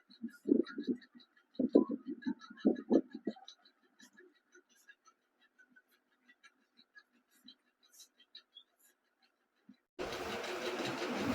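An electric hair clipper buzzes in short close bursts during the first few seconds of a men's haircut, then falls to faint intermittent clicks, followed by a sudden steady loud noise near the end.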